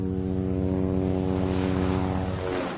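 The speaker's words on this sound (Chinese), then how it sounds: "5架奥特兹战斗机和6架日制88式侦察机， 从东塔机场起飞，直扑锦州上空" Propeller fighter planes and Japanese-made Type 88 reconnaissance aircraft taking off and flying toward Jinzhou in the 1930s, a steady droning engine hum with strong harmonic tones, loud and continuous throughout, with no talking.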